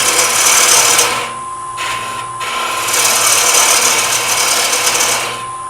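A parting tool cuts into wood spinning on a lathe while turning a miniature vessel. The cutting noise is loud and steady with a rasping, scraping texture and a constant motor hum, easing briefly in the middle before it returns. No one speaks.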